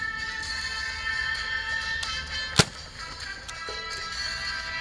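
A single sharp gunshot cracks out once amid a noisy, hissy background, loud and abrupt, fired at a hat in a toy western sheriff skit.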